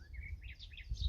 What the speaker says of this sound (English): there's a great tit calling out.